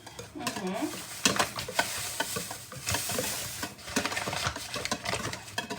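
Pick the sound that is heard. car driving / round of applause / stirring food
stirring food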